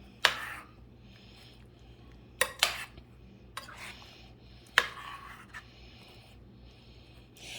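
A spoon scrapes and clinks against a dish while candied yams are stirred into their juice, a few sharp metallic knocks spaced out over quiet scraping.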